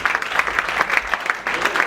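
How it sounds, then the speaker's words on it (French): Applause from guests at a Scalen Energy West Africa corporate gathering, with a few distinct claps repeating over a murmur of crowd noise and some speech. "on l'applaudit encore une fois de plus"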